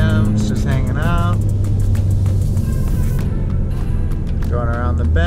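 A Mustang S550 engine holding around 3,000 RPM while climbing a hill, a steady low rumble from inside the cabin, with someone talking over it throughout.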